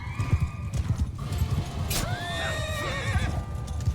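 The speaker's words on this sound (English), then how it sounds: "Ah, take those horses out, man." Horses in a medieval battle in the video game Realm of Thrones gallop with rapid hoofbeat clip-clops while one loudly neighs and whinnies, over a busy combat soundscape.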